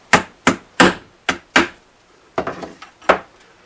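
Sharp wooden knocks strike a glued brace inside a Kay acoustic guitar, about seven separate taps in an uneven rhythm, close and fairly loud, with short gaps of silence between them.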